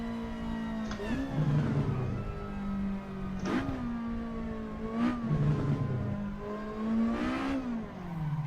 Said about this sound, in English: Little bit of an handbrake donut to finish.